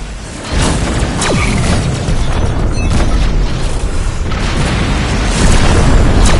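Spaceship explosions in the space combat game Rebel Galaxy, deep rumbling booms rolling continuously at close range with whooshing bursts and a swelling roar near the end, no talking.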